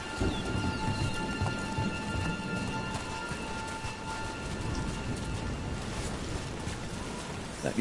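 Steady rain pours down in a stormy outdoor scene, with low rumbles of thunder rolling underneath throughout; no voices, just continuous wet hiss and distant booming.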